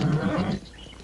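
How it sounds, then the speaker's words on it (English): A horse gives a short, close neigh that breaks off abruptly, leaving a brief quiet tail. "This horse is coming on."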